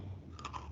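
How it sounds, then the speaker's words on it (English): Someone nearby chews an Oreo cookie, soft faint crunching bites in a brief quiet moment. "I apologize for the chewing noise. I have Sam standing next to me eating Oreos."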